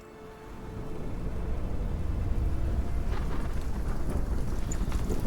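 Rain and thunder in The Witcher 3: Wild Hunt, Blood and Wine, build from quiet to a steady roaring downpour with a low rumbling thunder bed, heard alone at moderate volume.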